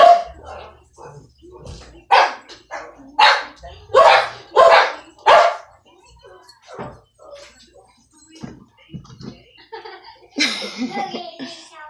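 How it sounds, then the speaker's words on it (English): Guard dogs bark loudly at a mail delivery in a run of about half a dozen sharp barks spread over several seconds. Laughter and talk follow toward the end. "I have some crazy guard dogs here, so that was the mail."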